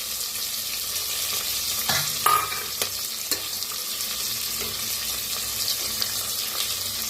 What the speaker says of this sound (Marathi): आता ह्याच्यात टाकूया शेंगदाणे आणि काजू,